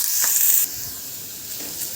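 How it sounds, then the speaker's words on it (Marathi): Chopped onion and curry leaves sauté in hot oil in a kadhai, opening with a sharp loud hiss that drops to a quieter steady sizzle. "इथं कांदा छान परततोय"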